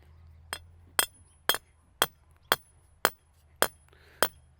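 A rebar stake is hammered into garden soil to anchor a DIY bean tunnel or hoop house: eight sharp, ringing metallic strikes at a steady pace of about one per half second, close and loud.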